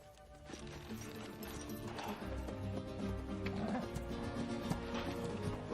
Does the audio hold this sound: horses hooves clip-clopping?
yes